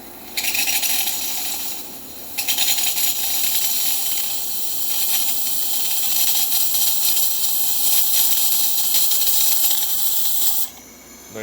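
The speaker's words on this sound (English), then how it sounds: "Nice strong steam." Steam wand of a serviced DeLonghi Magnifica XS espresso machine hissing loudly and steadily for about ten seconds after a brief start-and-stop burst, cutting off abruptly near the end.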